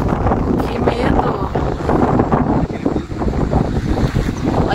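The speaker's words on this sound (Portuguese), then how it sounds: "Olha a ventania que tá lá." Strong gusting wind buffets the microphone outdoors at an antique car show, a dense roaring rush that swells and dips steadily throughout with no clear gaps, loud and close.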